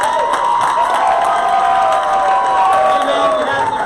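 A loud crowd at a church mission conference luau in Hawaii cheers, whoops and applauds together in a sustained roar, with voices shouting over the clapping.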